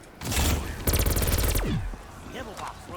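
A hip-fired automatic weapon in the video game Fragment lets off loud, close bursts of rapid gunfire, one short burst followed by a longer rattling volley that trails off.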